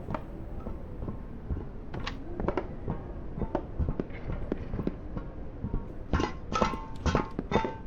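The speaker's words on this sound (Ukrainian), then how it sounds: "Дивіться, я тако бі біжу відкриваю ці скриньки." Treasure chests being opened in the video game Maiden, with a string of clicking, thudding game effects and bright chiming bursts near the end, moderately loud and steady with no speech.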